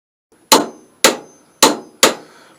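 Torque wrench clicking while tightening the wheel of a GSXR 600 motorcycle after a new tyre, four sharp, evenly spaced clicks close up in a quiet workshop.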